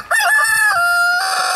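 A single Jersey Giant rooster crows once, loud and close, a bright drawn-out cock-a-doodle-doo lasting over a second.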